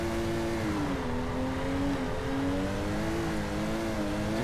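A Supra's engine drones and wavers at high revs during drifting and burnouts in a parking lot in the video game Torque Drift, a steady, close, unbroken engine tone with no talk over it.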